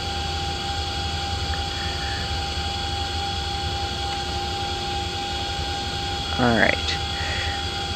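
Twin turbine engines of a CH-47D Chinook helicopter spin up in the X-Plane 11 flight simulator, a steady loud jet-like whine and hum throughout, with a brief spoken word near the end.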